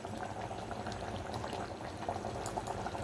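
Food boils in water inside a clay pot, giving a steady, close bubbling and simmering sound with no voices.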